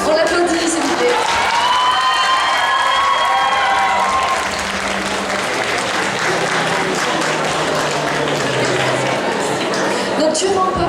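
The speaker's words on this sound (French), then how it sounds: "On l'applaudit, s'il vous plaît." Audience applause with cheering honors a cosplay contest prize winner at the Sakurise 2025 convention awards. The dense, steady clapping fills the room throughout while a presenter keeps talking over it.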